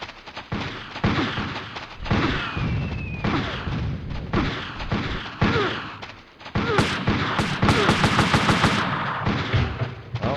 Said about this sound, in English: you got that guy up there who's shooting